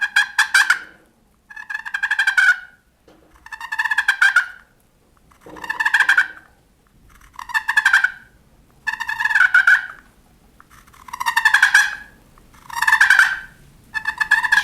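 A turkey friction call, a striker dragged across a pot call, gives a series of raspy hen yelps in about eight evenly spaced bursts, each a quick run of scratchy notes, loud and close with no talking.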